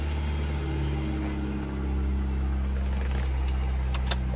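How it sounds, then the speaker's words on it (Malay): Steady car engine idling with the air conditioning switched on, a continuous low hum with a constant drone that stays even and close for the whole stretch, with no talk. "Saya pasang aircon."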